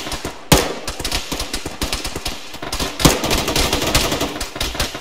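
Rapid bursts of machine gun fire from a video game, loud and close, with repeated volleys and sharp louder shots near the start and middle.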